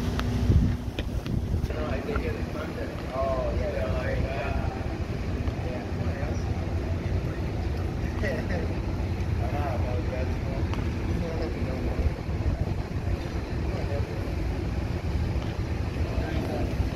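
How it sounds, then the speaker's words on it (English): Aboard a super yacht off Miami, steady wind buffets the microphone over a low rumble of the boat moving through water, while people talk intermittently. "Okay, we're on the Seafarer yacht here."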